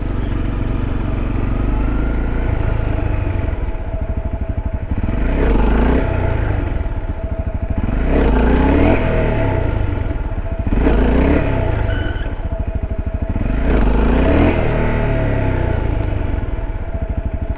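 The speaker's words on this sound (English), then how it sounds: "having a sport bike that revs to the moon becomes a benefit" A sport bike engine revs hard in repeated surges, climbing and falling about four times, loud and close.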